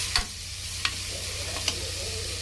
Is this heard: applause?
no